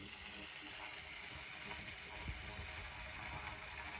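Water rushes steadily from a hose in a continuous hiss, filling a container of roughly 500 liters nearby, with faint clicking in the background.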